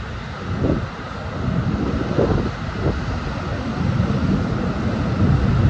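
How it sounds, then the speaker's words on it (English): Ocean waves crash against a jagged rocky coastline in a continuous loud rumble, with surges rising and falling under heavy wind buffeting the microphone. "When I look at these waves, and I feel them crashing on the shores"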